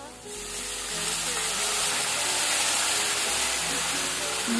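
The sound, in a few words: food simmering in a covered pan after adding water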